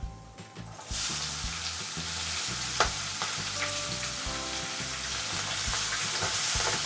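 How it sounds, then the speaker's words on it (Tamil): Chopped onions sauté in hot oil with mustard seeds and curry leaves for a brinjal gravy. A steady, fairly quiet sizzle holds after a louder hiss kicks in, broken by occasional scrapes and knocks of stirring. "வெங்காயம் வந்து கொஞ்சம் கலர் மாறுற வரைக்கும் வதங்கிட்டோம்"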